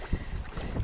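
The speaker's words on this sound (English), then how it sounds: "It's quite a windy day." Wind gusts across Upper Goose Pond on the Appalachian Trail, a steady rushing roar buffeting the microphone with low rumbling surges throughout the short moment, with no voices.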